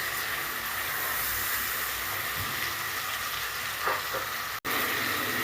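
Meat and onions frying with spices in a pot for kebab halla, a steady close sizzle and hiss running throughout, broken by faint stirring scrapes and one brief dropout.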